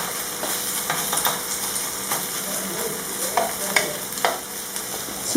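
Quinoa patties fry in a pan, with a steady bright sizzle and a few short scraping and tapping sounds as they are placed and shaped.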